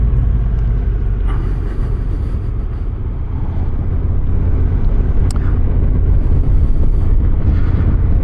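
Continuous engine and wind rumble from a Honda NT1100 DCT motorcycle riding in third gear, a steady loud low drone with one brief sharp click midway.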